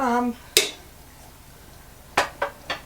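A utensil mixes pesto into bowtie pasta with basil and pine nuts, producing a few sharp clinks against the bowl, one early and a quick cluster of three near the end, following a brief bit of speech.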